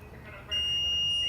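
A fuse tester touched to a good fuse lets out a steady electronic beep that starts abruptly and holds on, close and fairly loud.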